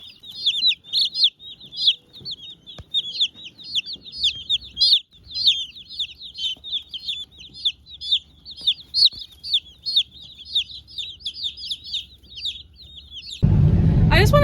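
Cornish Cross and Red Broiler meat chicks kept by new homesteaders give a constant chorus of high, rapid peeps and chirps close by, ending in a sudden burst of rough noise.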